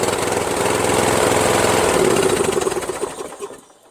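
A Briggs & Stratton 12 HP flathead engine runs steadily on a Toro Wheel Horse 1238XL lawn tractor with a 38-inch deck, loud and close with a fast, even chugging. It then tapers off toward the end as the engine winds down.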